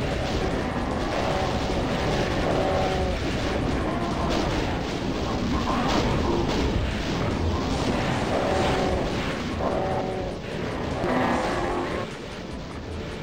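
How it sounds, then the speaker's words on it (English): The BFG firing repeatedly in Doom II, heavy roaring energy blasts in a sustained, rumbling barrage mixed with tonal game sounds, loud throughout and easing slightly near the end. "And let's hold that BFG trigger down."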